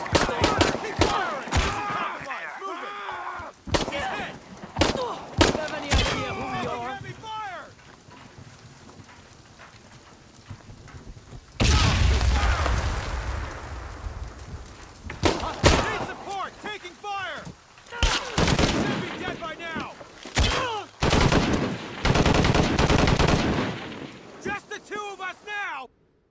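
Bursts of gunfire in the video game Shadow of the Tomb Raider, scattered shots and volleys mixed with wind and shouting voices, some loud stretches and quieter gaps.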